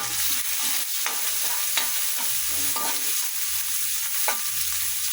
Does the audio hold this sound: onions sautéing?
yes